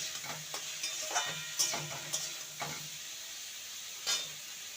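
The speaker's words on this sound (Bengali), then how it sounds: "চিচিঙ্গার আলুটাকে ভালো করে ভেজে নেব" Snake gourd and potato fry in a pan with a soft, quiet sizzle, punctuated by several sharp scraping strokes of a spatula stirring the pieces.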